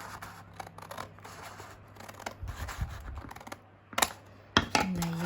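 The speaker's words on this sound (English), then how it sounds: "now I'll be able to cut it straight with my scissors" Scissors snip through scored paper being trimmed for journal signatures. A few crisp, close cuts stand out over faint rustling, with the sharpest strokes near the end.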